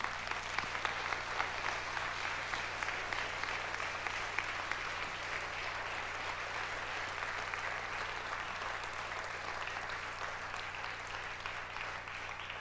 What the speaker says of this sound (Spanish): Demos un aplauso al Rey